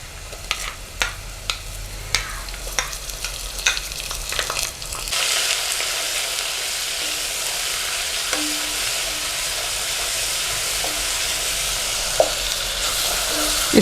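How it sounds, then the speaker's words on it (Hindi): Garlic and ginger hit hot oil in a kadai for kadai paneer, starting with a few stirring knocks and then bursting into a steady, loud sizzle that holds close and continuous with occasional spatters. "अब इसमें हम लहसुन अदरक डालेंगे।"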